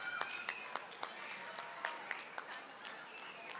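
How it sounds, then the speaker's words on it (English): Faint, distant applause and crowd noise at a Republic Day celebration after a dance group is named runner-up, a low wash of clapping with scattered sharper claps and a few whoops, voices mingling in the crowd. "Big round of applause."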